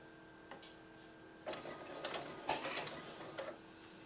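Sewing machine stitching a bat plushie head, faint rapid mechanical ticking in short bursts with pauses between runs.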